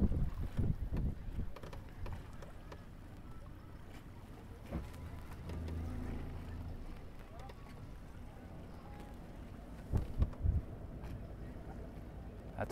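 A boat engine runs at full RPM in reverse while pulling back against a Kingston Quickset anchor on open water. It is a steady low rumble mixed with wind buffeting on the microphone, and voices talk at times.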